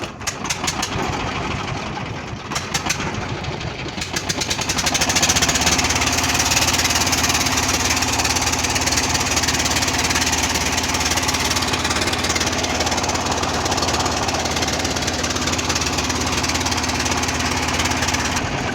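A river boat engine at Patuakhali sputters to life with a few uneven knocks, then settles into a loud, steady chugging drone that continues without pause.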